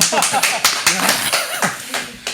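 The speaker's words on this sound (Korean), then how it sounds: "박수." People clap during a local radio news show, a quick run of close, crisp claps with voices talking over them.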